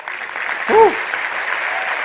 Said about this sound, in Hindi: अभी आई थिंक तालियां और ज्यादा हो सकती हैं